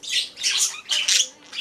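A pet bird at play lets out repeated loud squawks and chirps in several bursts separated by short pauses, close by and without any voice.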